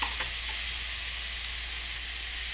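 Thin slices of tomato softening in hot oil in a pan with ponnaganti greens and moong dal, a steady dense sizzle with faint crackles, continuous and close, with no voices.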